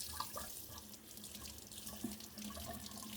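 Tap water runs into a sink while a lye jug is rinsed out, a steady, quiet splashing stream that continues alone throughout.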